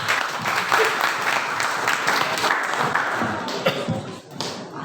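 Students and audience at a high school student council debate applaud candidate pair number one: loud, dense clapping that holds steady before tapering off at the end.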